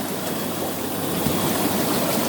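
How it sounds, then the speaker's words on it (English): Lay-Z-Spa inflatable hot tub with its air jets on, giving a steady, close, loud rushing bubble and hiss of churning water throughout, with no voices. "You can see it's bubbling away there"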